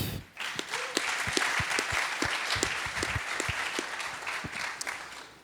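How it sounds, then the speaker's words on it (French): An audience at an on-stage startup pitch competition claps steadily and densely, a moderately loud round of applause that starts abruptly and tapers slightly near the end, with no voices. "On l'applaudit."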